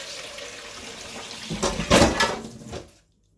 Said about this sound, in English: I'm just going to put some hot water in this so I can wash it out and knead it